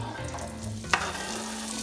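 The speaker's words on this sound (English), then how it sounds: "And now we're going to saute these chicken sausages" Chicken sausages sauteing in preheated butter in a pan, a close steady sizzle and crackle with one sharp click or clatter midway and no talking.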